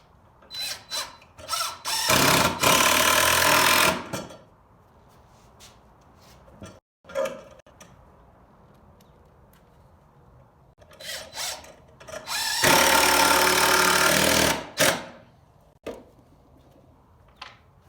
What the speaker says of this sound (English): Now I'll put 2 screws to attach that 5-inch piece to the 24-inch leg.